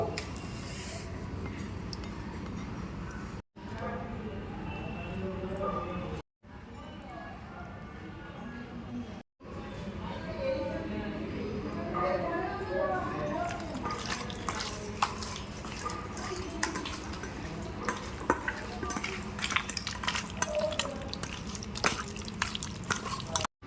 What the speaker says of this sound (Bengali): মাংসটা এবার আমি ধুয়ে নেবো।